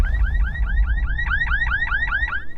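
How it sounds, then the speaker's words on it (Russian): A car alarm blares nearby, its rising electronic whoop repeating rapidly and steadily over a low rumble. "Вдруг срабатывает сигнализация автомобиля."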